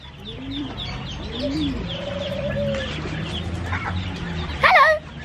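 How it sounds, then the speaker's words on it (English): Baby ducks calling with soft peeping chirps and a few clucking notes, outdoors over faint background noise, ending in a brief louder burst of calls. "look at the baby ducks."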